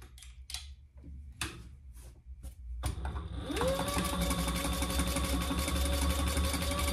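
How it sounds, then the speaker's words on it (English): A sewing machine top stitches the side seams of a fabric hobo bag. A few short clicks and bursts come first, then the motor settles into a steady, rapid, loud stitching run. "now I'm going to top stitch them"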